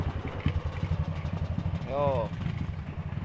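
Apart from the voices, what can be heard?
motorcycle on a steep hill trail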